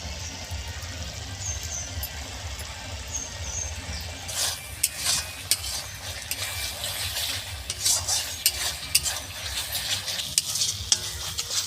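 A spice paste with Kashmiri chilli powder stirs and sizzles in a pan for Bengali koi fish curry, steady frying hiss with scraping and utensil clinks close by, growing busier midway.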